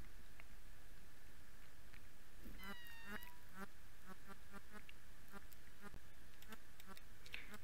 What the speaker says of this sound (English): 'Tis a duck.